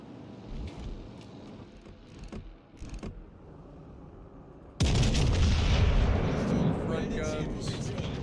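Warship guns firing in World of Warships, heard as a loud, sudden broadside boom that gives way to a sustained roaring rumble, after a quieter stretch of ambient game sound with a few faint thuds.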